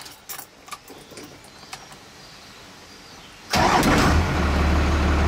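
First-generation diesel heavy tow rig truck fitted with 7x.011 148-degree SAC injectors: after a few faint clicks and rattles, the engine cranks and catches abruptly, settling into a loud, close, rumbling idle.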